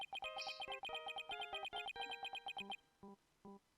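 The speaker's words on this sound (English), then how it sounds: "Listen to that ringtone" A bright, electronic ringtone melody from the video game Ace Attorney Spirit of Justice plays in quick repeated beeping notes, then trails off into a few separate tones, close and fairly loud with no talking.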